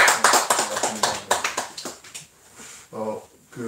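A church congregation at a Sunday worship service claps briefly in welcome, a burst of scattered handclaps for about two seconds before a voice speaks.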